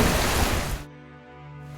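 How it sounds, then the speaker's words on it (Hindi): Heavy rain pours down outside in a cartoon scene, a dense, loud hiss that cuts off abruptly after under a second and leaves a faint hum. "देखते ही देखते बाहर जोरों की बारिश शुरू हो गई।"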